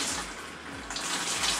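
Leftover water draining out of a hose pipe system while home brewing, a steady close splashing gush of running water that swells louder in the second half, heard alone with no talk.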